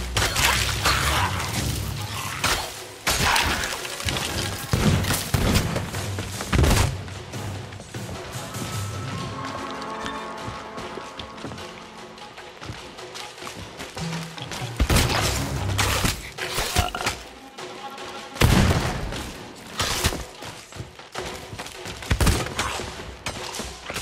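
Repeated heavy gunfire and crashing blasts from pistol and blunderbuss against gunpowder skeletons and exploding barrels in Sea of Thieves, irregular loud bursts and smashes over dense game noise with little talk.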